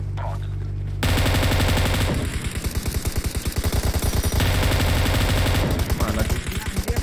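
Rapid automatic gunfire rattles continuously in the mobile battle royale game PUBG Mobile, loud and close, in sustained bursts after a brief quiet start.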